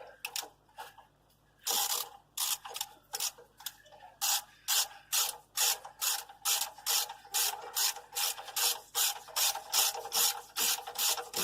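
A ratchet wrench tightens a front brake caliper bolt on a Renault Scenic, giving a long run of rapid, evenly spaced metallic clicks up close after a brief pause, with no talking.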